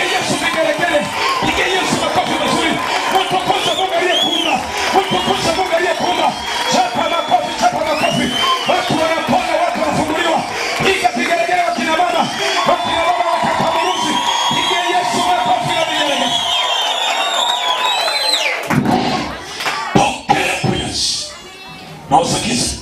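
A church congregation claps and ululates for Jesus, with loud continuous clapping, whoops and high trilling ululation throughout, a preacher's voice calling out over the crowd, and a brief lull near the end before the noise resumes.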